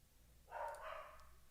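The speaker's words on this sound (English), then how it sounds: "They hear your dog." A single dog bark heard faintly in the distance, a short muffled yap rising out of low room noise with nothing else around it.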